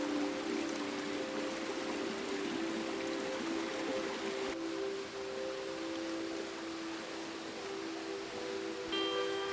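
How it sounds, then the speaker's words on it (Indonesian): The Panaan River in a Kalimantan forest flows with a steady, close rushing hiss of moving water, continuous and even throughout with no voices. "Inilah termasuk ujung dari sungai, salah satu sungai yang ada di Kalimantan, yaitu Sungai Panaan."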